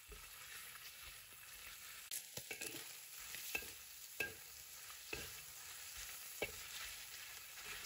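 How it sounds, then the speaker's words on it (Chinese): Pork belly stir-fries in a wok over medium-high heat, a soft, steady sizzle broken by several sharp scrapes and clacks of a spatula, with no voices. "中大火煸炒一会，炒出五花肉的香味。"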